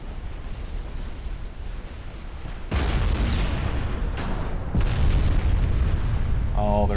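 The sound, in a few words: ship guns firing in a naval video game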